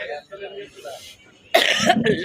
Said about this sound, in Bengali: আমার কাশি এখনো থামে নাই